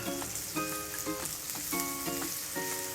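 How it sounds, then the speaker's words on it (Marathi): Vegetables and green chili sautéing in a pan, a bright continuous sizzle punctuated by repeated clinks and scrapes of a utensil stirring at a steady rhythm, close and fairly quiet, without talk. "त्यानंतर आपण या घेतलेल्या भाज्या त्यामध्ये घालून घेऊया,"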